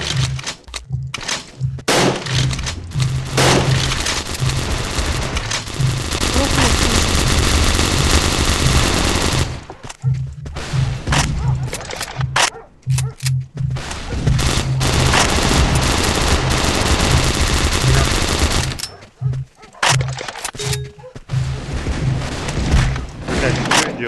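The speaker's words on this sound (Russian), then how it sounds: "он через все стены начал стрелять" Rapid, loud bursts of automatic gunfire come in a shooter game match in an urban map, with a player firing through walls. The bursts run in long rattling stretches with short pauses, and voices talk underneath.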